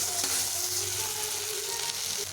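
Grated potato and onion fry in a pan, a loud, dense, continuous sizzle close by with faint stirring, no voices.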